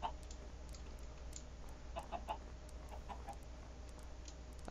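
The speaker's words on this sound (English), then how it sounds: "Here is another chicken right here." Chickens clucking in the Minecraft video game, a few soft, scattered clucks and clicks over a faint steady background hum, without talking.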